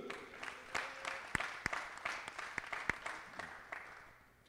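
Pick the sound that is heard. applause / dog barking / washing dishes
applause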